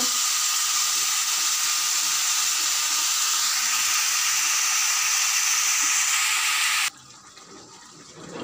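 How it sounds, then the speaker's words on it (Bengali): Ridge gourd and potato pieces frying with spices in a pan, a steady loud sizzle that holds for about seven seconds and then cuts off abruptly, leaving near quiet. "ঝিঙে আর আলু এইভাবে ভালো করে মশলার সাথে কষিয়ে নেব"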